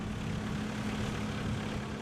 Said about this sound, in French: À peine déchargé, l'avion repart.